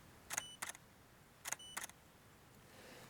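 Two camera shutter actuations fire on a macro photography setup with a 1/4 second exposure, each a crisp open click followed by a close click, heard close and clean in a quiet room.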